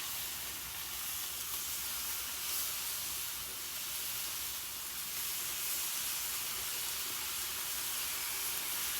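Lobster tails sear on a hot flat-top griddle, a continuous loud sizzling hiss that stays bright and unbroken from start to finish, with no talking over it.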